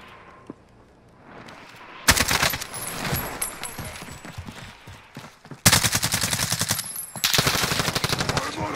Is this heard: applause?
no